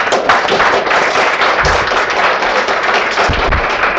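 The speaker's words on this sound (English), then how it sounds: "I think that deserves a round of applause to sir" Dense, steady applause from an audience at an MBA guest lecture greeting the guest speaker, continuous clapping with a few heavier thumps.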